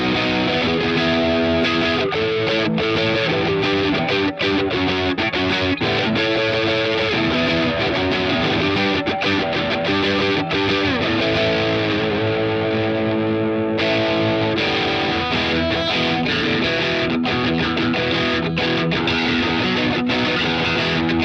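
A Fender Vintera 60s Mustang electric guitar played continuously through a distorted, effected amp, sustained chords and riffs ringing loud with a brief shift in tone partway through as it moves between pickup settings.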